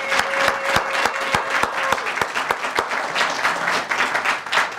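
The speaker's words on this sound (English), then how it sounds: "so please give them a nice round of applause." A crowd at a university athletics Wall of Fame reception applauds warmly, steady clapping with a few sharp individual claps standing out, sustained throughout without talk over it.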